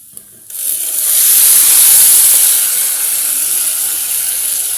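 Marinated beef dropped into a hot pot for biryani, a sudden loud rush of hissing steam and sizzle that swells and then settles into a steady spray-like hiss, no talk.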